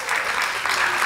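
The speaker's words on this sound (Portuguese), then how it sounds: "Salva de palmas." Audience clapping steadily at a hypnosis stage show, a short burst of dense applause from a crowd.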